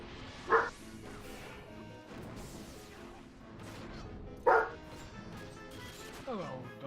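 Dogs bark in two sharp, loud bursts a few seconds apart amid a busy game soundscape with music and effects.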